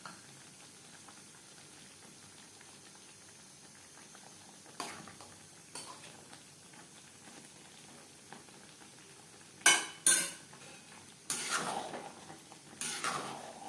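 Ghee, garam masala and kasuri methi are stirred in a pan over a soft, bubbling sizzle, with a few scattered scrapes and then louder clinks of the spoon against the pan near the end.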